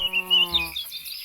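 Swamp ambience in Minecraft from the AmbientSounds mod: a close, buzzing insect or frog-like drone with high chirps overhead, stopping partway through while the thin chirping carries on.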